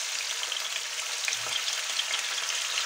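Chunks of pork loin searing in a pot over high heat: a dense, even, hissing sizzle with scattered tiny pops, close and continuous, with no voices.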